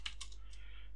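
Keystrokes on a computer keyboard as a Linux install command is typed on a Raspberry Pi: a few quick, close taps in the first moments, then a lighter one, heard alone.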